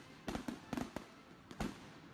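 Fireworks bursting in a quick string of about five sharp cracking pops, moderately distant and fairly quiet, with short gaps between them and no voices.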